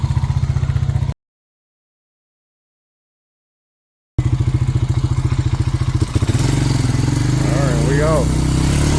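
Honda Rancher ATV engine running as it is driven, a close, steady low thumping putter that drops out briefly, then returns and grows louder and rougher as it moves off.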